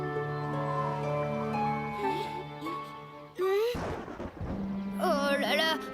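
A cartoon thunderclap from a big approaching storm cracks and rumbles briefly midway, set against music and cartoon voices talking.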